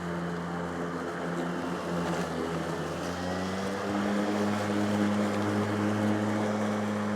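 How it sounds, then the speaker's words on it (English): A Ryobi 40V cordless battery lawn mower cutting through tall, heavy grass, a steady close motor whine whose pitch shifts and drops as the blade load changes, with no voices. "Listen to it rev back down."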